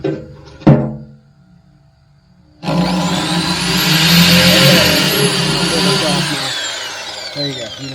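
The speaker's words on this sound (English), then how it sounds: "Start drilling." A sharp knock is followed by a short pause, then an electric drill whirs steadily and loudly while boring into a John Deere tractor part, its pitch rising slightly under load before winding down near the end.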